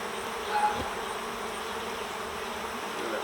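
Honeybees from a cutout colony fill the air with a steady, close buzzing drone that holds level throughout, with no talking.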